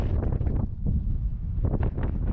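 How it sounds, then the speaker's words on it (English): Strong wind near Las Vegas buffets the microphone in heavy, rumbling gusts that rise and fall throughout. "Wow, it is super windy, but feels really good"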